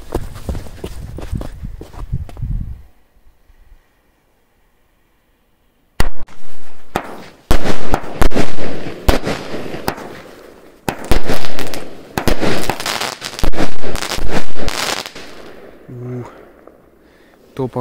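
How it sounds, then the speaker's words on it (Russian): Loud bursts of ground-launched fireworks crackle and bang in quick clusters at night, with a short quiet gap before a dense barrage of sharp pops and booms. "Во, вроде установил салют. Посмотрим, как он будет лупить."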